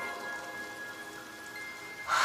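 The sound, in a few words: gentle rain in Demon Slayer anime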